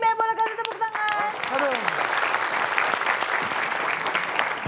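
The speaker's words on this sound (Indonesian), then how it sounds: "Boleh kasih tepuk tangan." An audience at an Indonesian crossword quiz game show breaks into a burst of loud, sustained applause that starts right after a host's voice and holds steady to the end.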